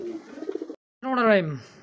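Pigeons of fancy breeds at a bird market coo close up in low, throaty, rolling calls, with a brief pause between two phrases.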